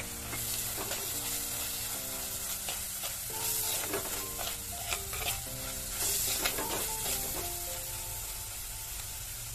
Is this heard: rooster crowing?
no